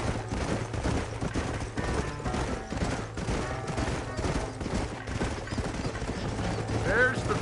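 Horses' hooves clip-clop in a steady rhythm across Red Dead Redemption's Western terrain, with clanking tack, a whinny and people talking over the ride.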